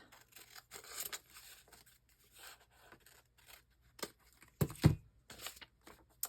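Scissors trim paper scraps for a handmade junk journal. Quiet, intermittent snips and paper rustles are heard close up, with one sharper cut near the end.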